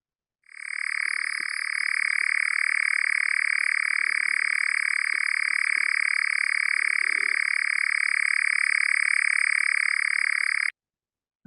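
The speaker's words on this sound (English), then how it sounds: "So it's a long-tailed nightjar." A long-tailed nightjar's call is played back in Nigeria: one continuous, loud, insect-like churring trill that holds steady for about ten seconds, then stops abruptly, with no voices over it.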